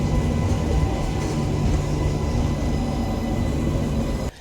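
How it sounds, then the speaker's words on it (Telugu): MEMU passenger train pulling into Balanagar railway station, a steady loud broadband rumble and rattle of the carriages with a brief drop at the end. "ఇప్పుడే మన ట్రైన్ స్టేషన్లోకి ఎంటర్ అవుతోంది."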